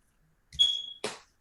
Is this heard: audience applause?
no